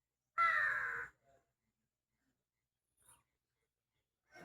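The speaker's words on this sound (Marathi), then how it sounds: "त्या पोलवरती सुद्धा कावळा बसलेला आहे आणि तो सुद्धा ओरडतोय" A crow perched on a pole outdoors in a village lets out one loud, harsh caw, followed by near silence broken only by a few faint, brief sounds.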